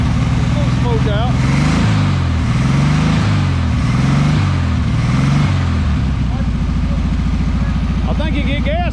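A 1976 Volkswagen Beetle with a 40 Ford kit engine runs loudly and steadily close by after years sitting, its engine note rising and falling in slow surges, while people talk over it.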